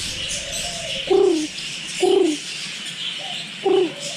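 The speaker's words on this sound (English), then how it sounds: "Rosy-faced lovebirds. That's what these are." Several short, throaty calls from rosy-faced lovebirds repeat at roughly one-second intervals over a steady hiss of background noise, with no voices present.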